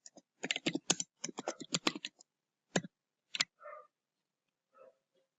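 Keys clatter on a computer keyboard in quick bursts of clicks for about two seconds, followed by a few isolated taps and faint softer sounds, close and fairly quiet.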